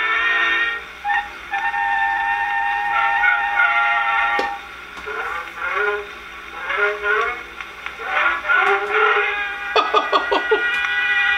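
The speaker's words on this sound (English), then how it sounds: "It sounded like a little train" An orchestra plays a bouncy, toy-like passage with bright tones and a chugging, stop-start rhythm, light and playful like a little toy train, no voices.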